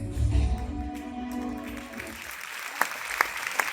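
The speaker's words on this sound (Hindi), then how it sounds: "आपकी तालियां बता रही हैं कि ये प्रस्तुति" An audience at a school annual day skit performance claps, loudly at first and then thinning out, and the applause fades to a few scattered sharp claps near the end.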